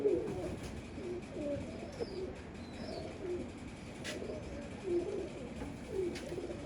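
Pigeons coo in soft, repeated low calls at a relaxed rhythm, fairly close, with faint chirps and background noise in between.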